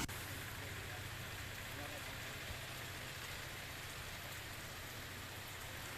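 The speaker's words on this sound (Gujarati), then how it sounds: "જેતપુરમાં ધીમી ધારે વરસાદની શરૂઆત થઈ છે" Light rain falls in Jetpur, Gujarat, a steady, even hiss throughout with a low rumble of traffic or an engine underneath.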